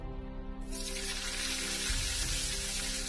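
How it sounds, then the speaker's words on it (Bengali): Cauliflower florets sizzle and crackle loudly in the hot oil left from frying potatoes, with a steady, dense hiss that swells once the pieces hit the pan and carries on without a break. "এবার আমি ওই তেলের মধ্যেই আমি দিয়ে দেব ফুলকপি।"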